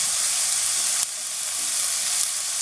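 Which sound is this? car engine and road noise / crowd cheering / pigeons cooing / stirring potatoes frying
stirring potatoes frying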